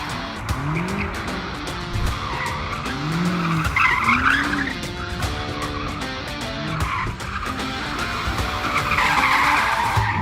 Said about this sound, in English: here's another montage of me hooning around in an M5 competition